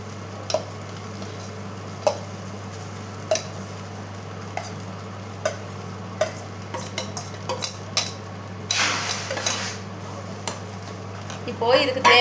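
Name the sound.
stirring egg and soaked aval (poha) in pan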